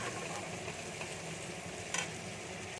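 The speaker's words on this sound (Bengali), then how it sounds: "পেঁয়াজটা ভাজা হয়েছে" Onions sizzle and crackle steadily in a pan with garlic, with a soft stirring scrape partway through, before the sound cuts off abruptly.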